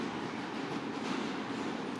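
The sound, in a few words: subway train running in the subway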